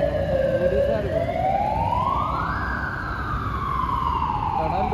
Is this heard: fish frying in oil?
no